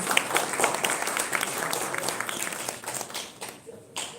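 Applause from a seated audience at an executive business dinner for the NextGen Innovation Challenge, a steady wash of many hands clapping at close range, thinning slightly toward the end.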